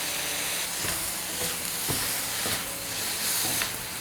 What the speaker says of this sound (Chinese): 用筷子哈，这样去翻炒它